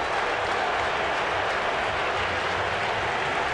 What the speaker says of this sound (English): this will be just another great ovation for Zito when he departs